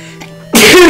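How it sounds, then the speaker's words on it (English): One loud close sneeze bursts out abruptly after a short quiet intake, with nothing else sounding. "That was a good sneeze."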